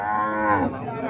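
A single drawn-out Sahiwal cow moo, close and fairly loud, rising then sliding down in pitch.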